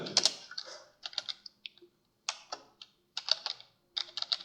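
Typing code for an Arduino on a computer keyboard: bursts of quick, close key clicks separated by short pauses, with no voice.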